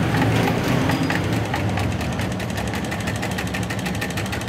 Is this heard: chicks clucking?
no